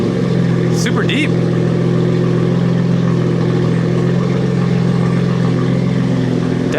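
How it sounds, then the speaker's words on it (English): A BMW S55 engine fitted with a Valvetronic equal length exhaust idles with a steady, deep, rumbling drone, loud and close, while a person talks over it. "Definitely sounds deeper than the other one. This just sounds like a street bike low-key at idle."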